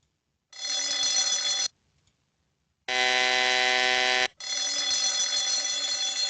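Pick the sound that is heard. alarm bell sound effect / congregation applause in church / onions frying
alarm bell sound effect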